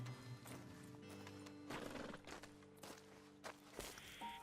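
Horses in Red Dead Redemption 2 heard up close, with hooves clip-clopping in an uneven walking rhythm, snorting and a whinny, plus faint tonal game ambience underneath.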